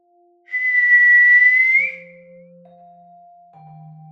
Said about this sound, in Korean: 참았던 숨을 몰아쉬자 입에서 휘파람 소리가 난다.